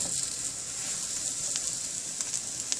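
A spinach and paneer paratha fries in oil on a hot pan, making a soft, steady sizzle with a few small crackles and pops throughout.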